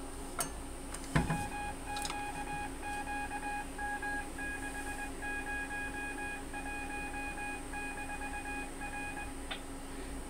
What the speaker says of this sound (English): If you could hear the CWID of the GMRS repeater, that's what that was.